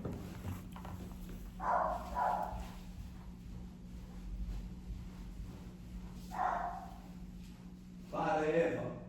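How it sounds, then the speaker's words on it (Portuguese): A dog barks in several short bursts at separate moments, set against steady background hum in a room where a person speaks. "Eva, para de latir"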